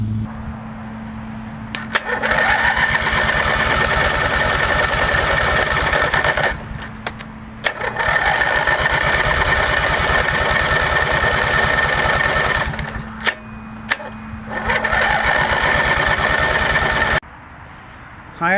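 An 18-19HP opposed-twin engine, fed from a gasoline-soaked rag instead of its carburetor, runs loud and close in rough stretches, briefly cutting out twice before catching again and finally dying.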